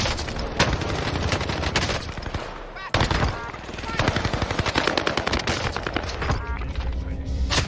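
Marco 5 submachine gun fire on Rebirth Island in Warzone comes in rapid, loud automatic bursts, nearly continuous with a brief gap, mixed with other shots and impacts of a chaotic firefight.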